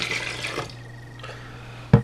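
White vinegar poured into a measuring cup, a short splashing liquid stream that fades out, followed by a quiet pause and a brief bump near the end.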